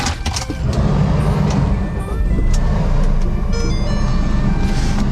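Steady engine drone and road rumble from a used Ford Ranger Wildtrak 2.2 four-door pickup with a 6-speed automatic pulling away on a test drive, loud and continuous, with a few faint beeps and clicks early on.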